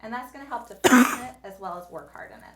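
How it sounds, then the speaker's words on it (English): A single short cough bursts out in the middle while a person keeps talking, brief and moderately loud against the speech. "Now you might hear a little cough in the background."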